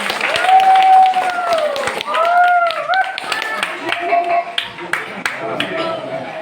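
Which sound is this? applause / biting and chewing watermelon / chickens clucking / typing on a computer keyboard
applause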